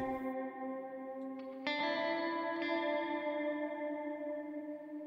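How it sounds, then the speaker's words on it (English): Sustained tonal notes ring out with a long, washy cavernous reverb tail from a pre-fader send in Pro Tools. A second chord enters midway and both decay slowly together. "We've got a nice cavernous kind of reverb sound happening"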